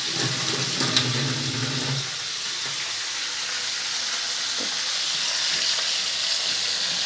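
Small mixed fish sizzle in hot oil in a pan for a Bengali fish-and-aubergine chorchori, a steady close hiss lasting throughout, with a low hum in the first two seconds.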